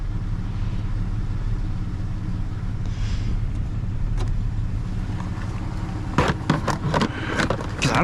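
A truck with fault codes P0134 and P0171 drives in snow, its engine a steady mid-pitched rumble heard from inside, with a burst of rattling clicks and knocks near the end.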